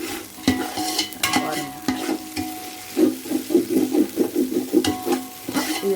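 Chettinad biryani masala sautéing in oil in a pan while a spoon stirs it, giving close rhythmic scraping strokes over a soft sizzle, with a brief spoken word.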